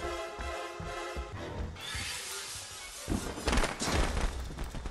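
Fireworks in a Friday the 13th game burst in a dense, crackling volley that swells louder toward the end, a rapid string of sharp pops and booms.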